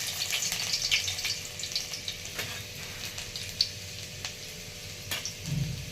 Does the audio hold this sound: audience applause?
no